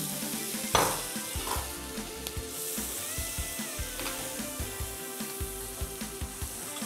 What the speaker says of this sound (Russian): обжариваем грибы для нашей сырно-грибной начинки